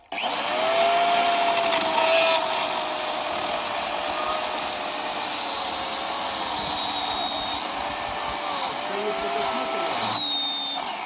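A Dolmar ES-140 electric chainsaw cuts through wood with a steady, loud motor whine. The whine dips in pitch as the chain loads up in the cut, and it holds up close for about ten seconds with no talking.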